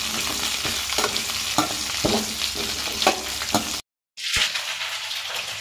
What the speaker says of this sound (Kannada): ಈಗ ಹೆಚ್ಚಿರುವಂತಹ ಬೆಂಡೆಕಾಯಿನ ಹಾಕಿ ನೀಟಾಗಿ ಫ್ರೈ ಮಾಡಬೇಕು